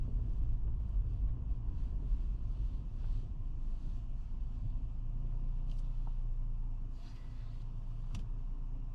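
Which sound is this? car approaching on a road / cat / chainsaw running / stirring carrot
car approaching on a road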